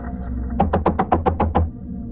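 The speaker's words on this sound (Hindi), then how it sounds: "जल्दी जाकर दरवाजा खटखटाया" Seven quick, evenly spaced knocks on a wooden door, close and fairly loud, with a brief quiet before and after.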